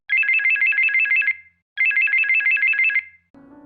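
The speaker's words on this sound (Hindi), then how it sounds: "रात के ठीक 9 बजे कल्याणी का फोन बजा।" A telephone rings with a trilling electronic ringtone in two clear bursts separated by a short pause, loud and close with no talk, followed by a brief quieter tail at the end.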